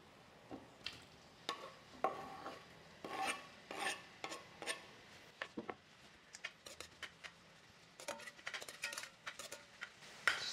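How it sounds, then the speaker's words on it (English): Onion and seasoning peppers sautéing in coconut oil in a pot give quiet, irregular sizzling crackles and scraping rasps from stirring, arriving in short bursts with brief pauses between. "We're going to add in our onion and seasoning peppers to saute."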